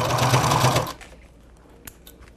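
A sewing machine stitches a zipper onto a patchwork piece, running loud and steady for just under a second before stopping, followed by quiet handling noises.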